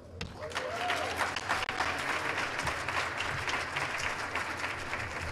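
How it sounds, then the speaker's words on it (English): An audience gives sustained, lively applause at a live show, dense clapping filling the whole stretch at a moderate level with a few shouts and voices mixed in. "y'all been clapping for us"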